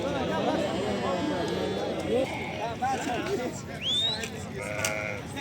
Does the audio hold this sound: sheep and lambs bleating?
yes